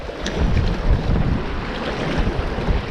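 Wind gusts across open water during a bass fishing trip, a dense, roaring rush of wind buffeting the microphone with lapping water beneath, loud and continuous with no talk.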